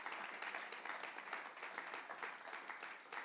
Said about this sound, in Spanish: Dale un aplauso grande al Señor.